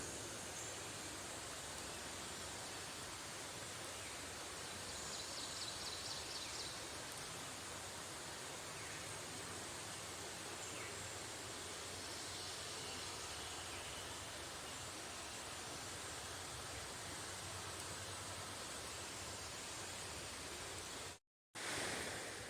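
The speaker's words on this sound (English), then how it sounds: "I'll just let you hear this for a second. That water and the wind and the birds." Steady broadband rush of water flowing in a stream beside a forest trail in Connecticut, mixed with wind, continuous and fairly faint throughout with no talking.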